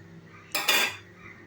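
A metal cooking stand set down into a wide pan gives one sharp, close metallic clatter that rings briefly and fades, with no talking.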